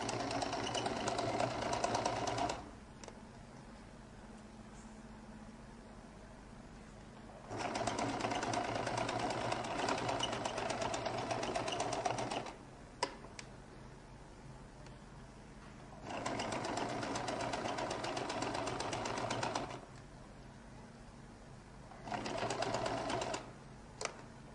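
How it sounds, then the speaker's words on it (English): A sewing machine stitches a lady's jacket close to the collar in several bursts of steady, rapid whirring, each several seconds long, separated by quiet pauses, close and fairly loud. "I'll make sure that I sew a little bit away from the collar, so just slightly away, like 1 millimeter away from it."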